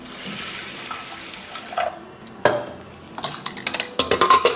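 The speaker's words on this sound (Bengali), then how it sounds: "এবার আমি জল দিয়ে দেবো এর মধ্যে।" Water poured from a vessel into mixed lentil dal in a pressure cooker, a few splashing pours with clinks of the pot near the end, close and moderately loud with no talk.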